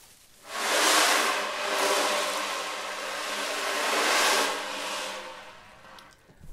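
Ocean drum tilted back and forth to imitate rain and surf, producing two slow swelling washes of rolling beads, loud and close, each rising and easing away.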